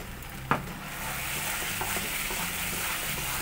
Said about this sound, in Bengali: এরপর আরও 3 থেকে 4 মিনিট নাড়াচাড়া করে পাক দিয়ে নেব।